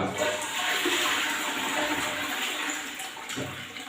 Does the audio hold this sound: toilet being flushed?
yes